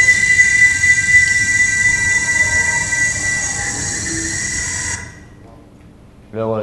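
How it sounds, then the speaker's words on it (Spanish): A huge grasshopper-like insect chirrs loudly and continuously in a steady buzzing band for about five seconds, then stops abruptly, leaving near silence before a short burst of voice at the end. "una especie de saltamontes enorme que hace así"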